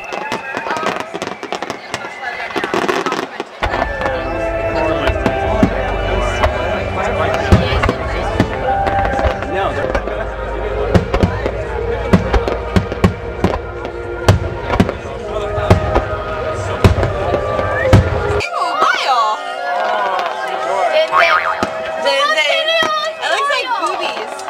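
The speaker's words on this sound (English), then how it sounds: "this has got to be the most impressive fireworks display I've ever seen in my life." A national fireworks competition display in Japan fills the air with a dense, continuous barrage of bursts and crackles, loud and sustained, with crowd chatter mixed underneath.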